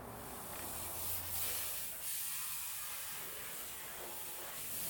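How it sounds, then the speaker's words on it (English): Water spray rinses loose dirt and grime from a car's undercarriage, a steady, faint hissing rush that swells slightly in places and runs continuously, with no voices. "we're going to start off by rinsing off all the loose dirt,"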